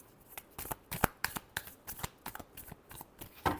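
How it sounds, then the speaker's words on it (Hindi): Tarot cards are shuffled by hand close up, with a quick run of crisp riffling slaps and flutters in an uneven rhythm and no voice over them. "Last shuffle."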